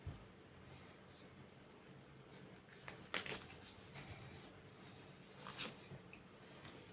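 Tarot cards are shuffled quietly by hand, soft riffling and sliding bursts with a few sharper snaps, close but faint against a low background.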